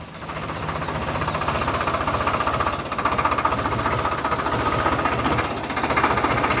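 A New Holland 855 tractor drags a 9-foot super seeder through wet, mud-like field soil with a heavy, continuous engine rumble and mechanical clatter that stays loud and steady throughout.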